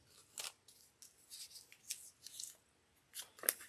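Quiet snips of sewing scissors cutting thread, a few short crisp cuts at irregular intervals close by in a still room, no voices.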